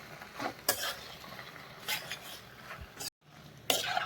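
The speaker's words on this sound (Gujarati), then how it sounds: "હવે આપણે તેમાં પાસ્તા એડ કરી દઈએ. બધી જ વસ્તુને સરસ મિક્સ કરી લઈએ આપણે." Pasta tipped into a pan and stirred, with soft scraping and clinking of a utensil against the pan in a few irregular bursts, fairly quiet and close.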